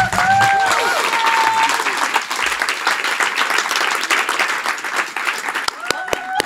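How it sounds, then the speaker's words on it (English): A large audience at a climate talk applauds loudly and continuously to welcome scientist Kate Marvel, with a brief voice at the start and scattered sharp claps near the end. "please give a big, broad, warm round of applause to Kate Marvel"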